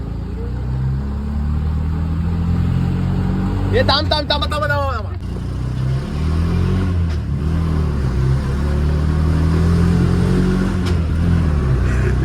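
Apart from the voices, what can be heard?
auto-rickshaw engine revving as Yash drives it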